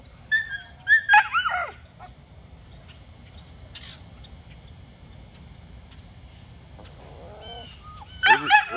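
Dogs at a sale yard whimper and yip in short high bursts, a cluster near the start and another at the end, over a steady low background murmur.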